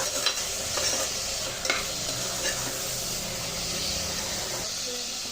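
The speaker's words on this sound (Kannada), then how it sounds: "ಇದು ಎಣ್ಣೆಯಲ್ಲಿ ಫ್ರೈ ಆಗಬೇಕು ಫ್ರೆಂಡ್ಸ್" Ingredients for menthya bath frying in oil in a pan, a continuous loud sizzle with faint spatula stirring scrapes on top, no one talking.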